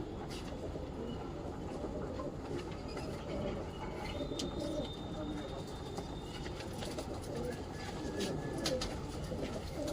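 Pigeons coo at a pigeon-flying tournament amid a dense, steady wash of outdoor noise, with faint chirps and a low rumble in the background.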